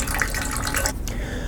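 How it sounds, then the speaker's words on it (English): Steady stream of water flowing from a tap, a continuous splashing hiss heard close and alone, briefly breaking off near the end. "I have a stream of water flowing"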